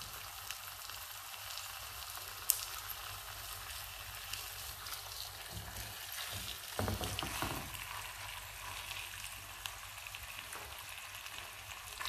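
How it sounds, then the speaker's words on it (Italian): Sea bream fry in a pan over a high flame with a steady, soft sizzle and crackle, continuous and fairly quiet, with a few sharper pops. "Ora mettiamo in padella le orate."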